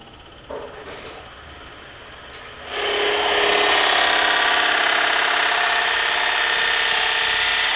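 A Forstner bit on a wood lathe bites into spinning wood: a brief tap and quiet motor hum, then a loud, rough, continuous cutting roar that holds steady to the end.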